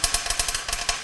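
A small LittleBits vibration motor and fan buzz together in short, uneven pulses, a rattling whir with a rapid stuttering rhythm, heard close and alone.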